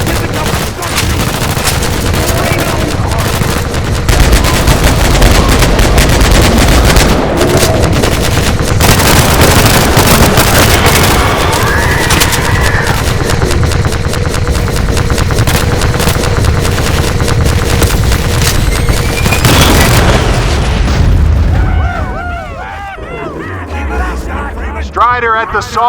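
Sustained gunfire and explosions from a Half-Life 2: Episode 2 firefight on very hard difficulty, dense and loud throughout with bursts of automatic fire, heavy blasts and voices shouting under the din.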